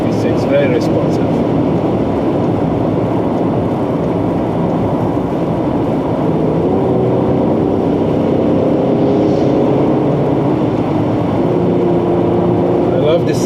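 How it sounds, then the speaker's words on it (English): A 2017 Mercedes-Benz GLE 450 AMG with a V6 engine cruising at speed, a steady, deep engine and exhaust drone mixed with road and wind noise, continuous and fairly loud throughout. "I love the sound of this engine,"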